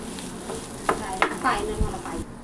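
Mashed potatoes for vada pav filling being stirred in a hot pan, a few soft scraping and thudding stirs over a low background sizzle, close and brief.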